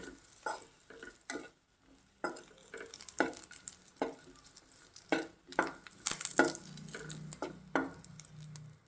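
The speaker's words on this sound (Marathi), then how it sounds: "तर खजूर पण तुपामध्ये चांगले भाजून झाले" Dates being roasted in ghee in a pan, quiet irregular scraping and stirring strokes with faint sizzling, close and soft with brief pauses between movements.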